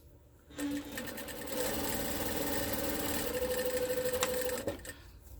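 A sewing machine runs steadily and close by while stitching quilt blocks, a fast whirring hum that starts after a brief pause and continues for several seconds before stopping.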